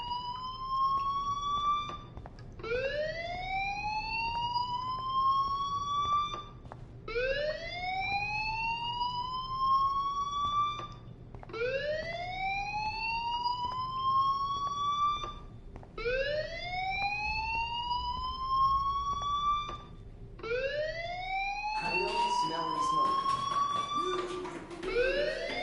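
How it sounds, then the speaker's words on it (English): A fire alarm in the video game Life is Strange sounds as a loud electronic siren, repeating rising whoops every few seconds, steady and close, with a brief burst of added noise near the end. "Hey, do you hear that fire alarm?"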